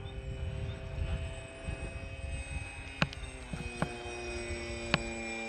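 Sig Kadet RC model airplane with its engine running at throttle, a steady droning hum with fixed tones, several sharp clicks breaking through the drone.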